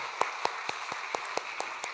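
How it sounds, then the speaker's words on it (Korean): Church congregation clapping in a slow, even rhythm, sharp unison claps landing roughly every quarter second, moderately loud in a reverberant hall. "우리 하나님이 하신 것에 대한 우리 감사의 마음으로 영광의 박수 올려드리겠습니다"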